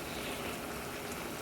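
Cornstarch slurry being poured into a chicken and vegetable mix for Chinese pan-fried noodles, a steady broadband watery pour that runs evenly through the whole short moment with no voices.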